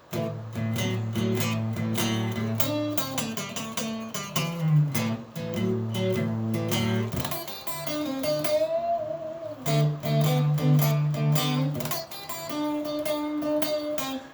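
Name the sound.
guitar minor pentatonic improvisation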